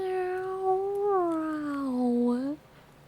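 A human voice imitates a cat's long meow, one drawn-out sliding wail lasting over two seconds that dips in pitch and rises at the end before cutting off, close and clear.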